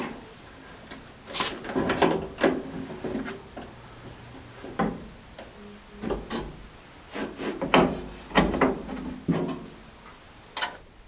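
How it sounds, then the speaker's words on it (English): Inside the door of a Jeep J10, a window is being fitted to its regulator with a snap clip, producing a string of sharp plastic and metal clicks and knocks at irregular intervals, close by, with no speech. "So I'm going to line this up inside of the door here and then use this clip to snap it on there."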